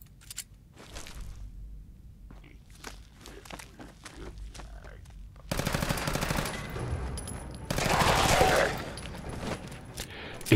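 Pistol gunfire in Fallout 4, a video game, with scattered footsteps and quiet shots early on, then two loud bursts of rapid shots in the second half.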